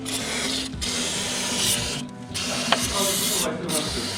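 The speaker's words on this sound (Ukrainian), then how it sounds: "Зараз ми все змиваємо гарненько спреєм." Sustained hissing spray bursts of cleaner onto a Jeep Grand Cherokee WK2 engine, a few seconds each with brief pauses between, close and fairly loud.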